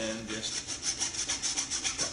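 Hand saw cutting PVC pipe, a steady series of about eight rhythmic rasping back-and-forth strokes, close and moderately quiet.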